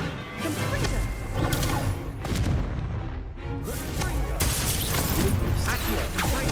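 Confringo fire spells cast in Hogwarts Legacy burst in a rapid series of loud crashing explosions and impacts, dense and continuous with a brief lull midway, set over busy game combat noise and voices.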